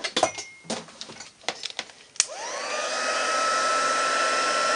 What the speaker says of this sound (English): bring in my heat gun